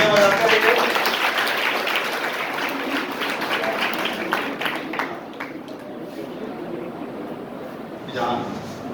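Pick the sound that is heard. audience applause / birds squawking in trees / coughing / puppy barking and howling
audience applause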